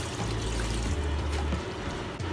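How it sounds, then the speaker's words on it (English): Cold water gushes over freshly cooked abacha, shredded cassava, in a kitchen, a steady close pouring splash lasting a couple of seconds. "I will pour cold water to help cool it down."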